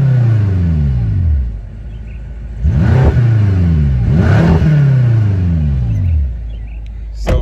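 A 2014 BMW M5 engine revs loudly several times, each rising roar falling back to a deep idle rumble between throttle blips, close and alone.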